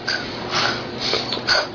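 A young girl imitates a pig, making about four short, breathy snorts in an uneven rhythm, close and fairly loud, with no other speech.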